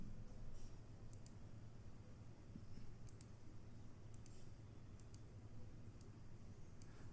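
Keys are tapped on a computer keyboard to enter a Nikto scanning command, a sparse series of faint, crisp clicks spaced irregularly over a quiet room hum.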